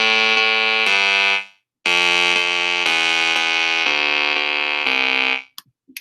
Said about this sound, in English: this says synth. What that means is that it's computer-generated sounds,